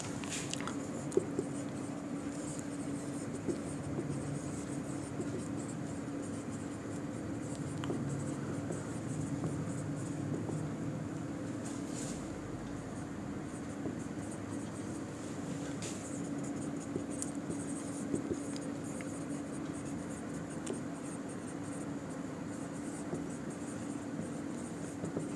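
A pen scratches steadily across paper as a definition is handwritten during a class 10 physics lesson on lenses, a faint, continuous close-up scribbling over a low background hum.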